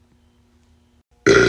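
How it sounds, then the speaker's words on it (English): A single loud, abrupt human burp bursts out near the end after a near-silent stretch. "And this is how pro burps their ABCs."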